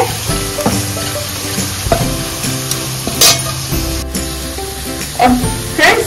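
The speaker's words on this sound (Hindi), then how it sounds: "ये देखो हमने सब चीज अच्छे से मिक्स कर दी है और हमारा मसाला अच्छे से भून गया है।" Masala for palak paneer fries and gets stirred in a pan, a loud close sizzle with scraping strokes of the spoon and a few sharper clanks, heard alone without speech.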